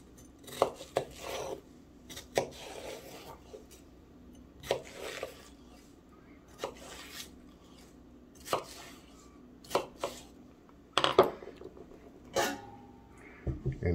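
Knife chopping through watermelon into small chunks on a board, a series of crisp, wet cuts spread at irregular intervals, close and fairly loud with quiet gaps between strokes.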